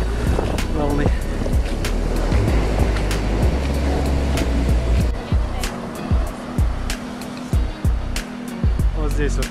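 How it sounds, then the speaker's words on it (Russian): Ocean waves wash and break on a beach at Tangalla, Sri Lanka, in steady surges with a low rumble, a voice speaking over the surf now and then. "Вот это сейчас приливчик был. Волны."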